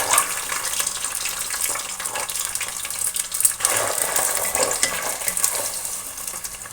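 Two chopped medium onions dropped into hot oil, giving a loud, steady, watery sizzle with crackling spikes throughout.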